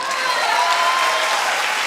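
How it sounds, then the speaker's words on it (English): A crowd claps and cheers in a dense, even wash of many hands, loud and close, with no break for the whole short burst. "Clap if you're with me."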